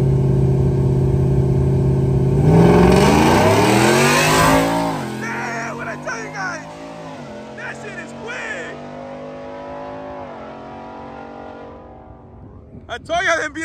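A BMW in a street race revs hard and accelerates, engine pitch sweeping upward through several gear changes, loud and close, then fading away, with people talking over it.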